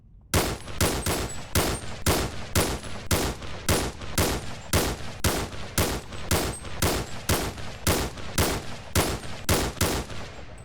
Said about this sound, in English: this is the HK G28. And it's a semi-automatic sniper rifle.